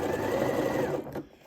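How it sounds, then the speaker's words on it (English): A domestic sewing machine runs a zigzag stitch on a dress sleeve cuff, a fast steady whirring close by that stops abruptly near the end. "these fit pretty snug on my sewing machine extension, so my machine's almost doing the job for me"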